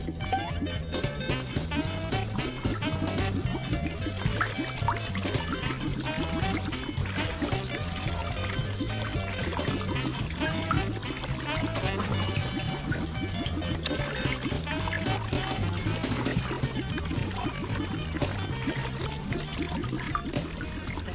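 Water poured through a layer of sugar standing in for limestone, a steady trickling and splashing flow that runs continuously and close up with no talk over it.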